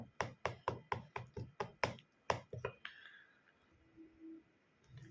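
Semolina batter for soft pitha being beaten in a bowl, a quick run of about a dozen sharp, evenly spaced slaps and taps up close, then a quiet tail with faint background noise.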